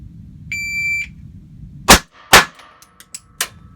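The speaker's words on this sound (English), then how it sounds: "I can shoot this gun a lot faster than a 357 SIG because it's a 380" A .380 handgun fires two quick, sharp shots about half a second apart, loud and close, followed by smaller metallic clinks and clicks, with a shot timer's beep just before the shots.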